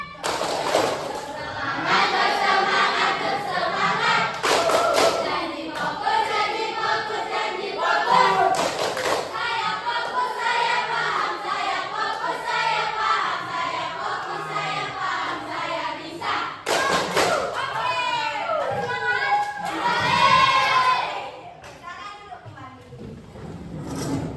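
A group of children claps in a quick, patterned rhythm while chanting together, repeated in bursts with brief pauses between rounds.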